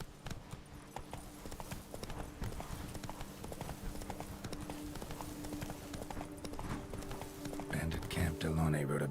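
In Witcher 3, Roach the horse gallops with a dense, rapid, steady hoofbeat, and a voice speaks over the running hooves near the end.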